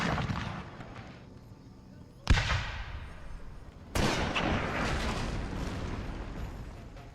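Artillery fire in Total War: Thirty Years War battle, two heavy cannon booms a couple of seconds apart, each followed by a rolling rumble over a low din of battle, with someone talking over it.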